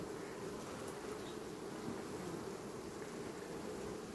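Honey bees from a colony being checked for varroa mites hum around lifted beehive frames, a dense, steady, even buzz close by with no talk.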